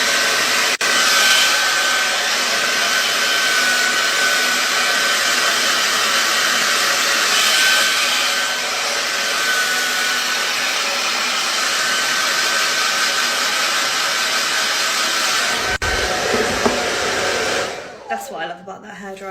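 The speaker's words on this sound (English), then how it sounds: "That's what I love about that hairdryer." A hair dryer blows loudly and continuously in a steady whooshing drone, then cuts off abruptly near the end.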